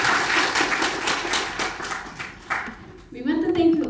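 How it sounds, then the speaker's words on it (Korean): An audience applauds professors at a university orientation, a burst of clapping from many hands that tapers off before a voice begins speaking. "박수를 드립니다"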